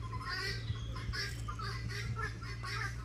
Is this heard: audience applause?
no